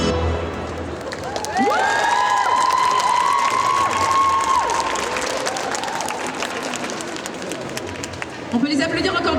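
An audience applauds and cheers after a performance at a Japan pop show contest in Mons, with sustained clapping, shouts and whistles, and crowd babble continuing underneath.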